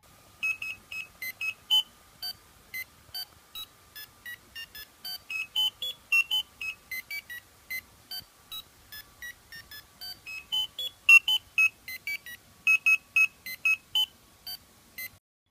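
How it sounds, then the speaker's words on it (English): An Arduino plays the Super Mario Brothers theme as a run of short electronic beeps in a quick, melodic rhythm, clear and steady throughout with no talking. "somebody made a Super Mario Brothers theme song Arduino code"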